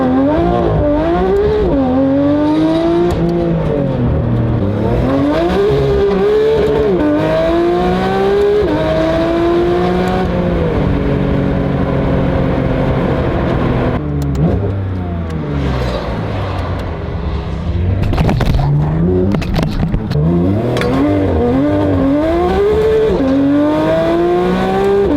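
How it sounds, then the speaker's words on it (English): A Porsche 992 GT3 RS flat-six engine revs repeatedly from inside the cabin in track mode, pitch climbing and dropping through gears with a loud, raspy titanium exhaust note, valves open, throughout. "Valves open, car's in track mode right now. You can very clearly tell she's got an exhaust."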